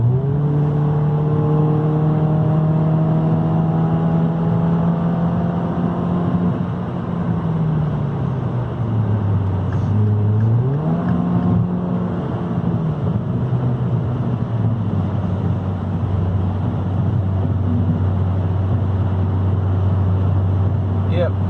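A 2.4L Dodge Dart engine with a bored throttle body revs up and settles back, a loud close whir that dips and rises around the middle before holding a steady idle, while someone talks over it.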